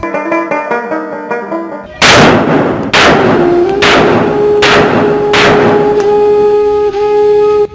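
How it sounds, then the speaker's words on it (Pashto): A short musical passage gives way to five loud, booming gunshots spaced about a second apart, each ringing out with a long echo, as a tone hums beneath. "دا ډزې چې واورم"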